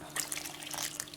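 Water poured into a bowl with yeast while preparing dough for homemade sandwich bread: a brief, close splashing trickle heard alone.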